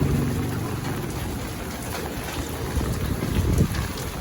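Steady rain pours down outdoors in a continuous broadband hiss with a low rumble underneath, holding at a fairly loud, even level throughout with no voices.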